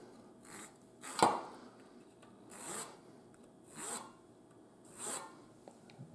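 A wooden part for a model steam engine is cut by hand with a small saw, giving several separate rasping strokes spaced about a second apart, close up and fairly quiet.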